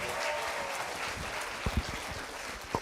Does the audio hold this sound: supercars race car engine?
no